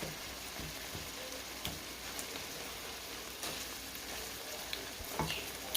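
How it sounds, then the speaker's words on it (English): Two pounds of ground beef with Italian sausage, onion and garlic frying together in a pan, a steady close sizzle and crackle with occasional stirring scrapes throughout. "added 2 pounds of ground beef and half a pound of Italian sausage, some onion, some garlic. I'm just cooking that up together."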